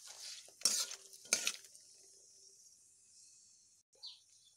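Dry red chillies, a bay leaf and panch phoron spices fry in oil in a kadai, with a few sharp clanks of a stirring spoon against the pan over a faint, steady sizzle that carries on after the stirring stops.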